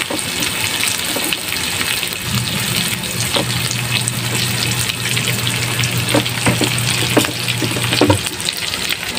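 Garlic dropped onto onions already frying in plenty of oil, a loud dense sizzle filling the scene with scraping stir clicks and a steady low hum running through the middle, no speech.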